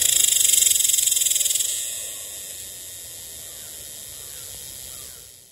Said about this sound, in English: Cicada songs can reach 90 decibels, which is about as loud as a lawnmower.